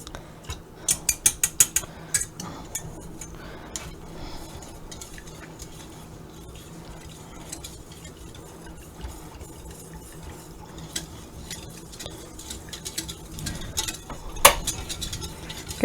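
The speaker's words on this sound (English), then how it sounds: "getting it stirred up, getting the chocolate melted in it" A spoon stirs chocolate melting in a pot, with light scraping and clinking against the metal. A quick run of sharper taps comes near the start and another louder clink near the end. The sound is fairly faint.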